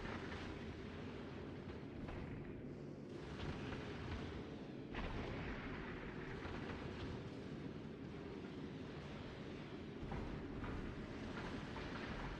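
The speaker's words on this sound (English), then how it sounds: "So the railguns shoot the huge ones" Railgun turrets firing in Factorio Space Age, a dense, continuous barrage of deep booming blasts rolling together without pause, loud and close, with no talk over it.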